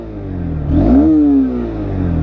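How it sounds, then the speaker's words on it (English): A Honda Hornet 2.0 motorcycle idles close by with a smooth, low exhaust note, then gives one quick rev that rises and settles back to idle. "Let me start the bike, and here is the exhaust note."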